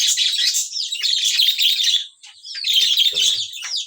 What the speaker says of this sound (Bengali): পাখিগুলো এবার উড়াউড়ি করবে